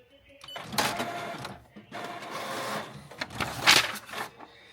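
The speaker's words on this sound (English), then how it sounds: "now we're going to go back and do another nozzle check." A Canon G7020 inkjet printer runs a nozzle check, with loud mechanical whirring and clicking in several bursts as the print head shuttles and paper feeds, pausing briefly between passes.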